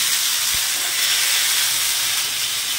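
Ground ginger and green chilli paste hits hot oil and sizzles as a loud, steady, close hiss that continues unbroken throughout.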